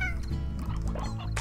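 A chicken in Slime Rancher clucks in a quick run of short, nasal calls, close and fairly loud over a busy game soundscape.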